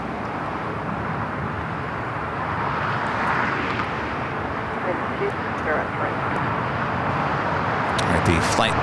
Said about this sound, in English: The flight to Tokyo Haneda now rolling down to 25 right.